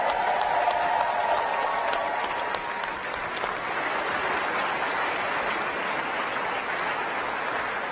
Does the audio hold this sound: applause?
yes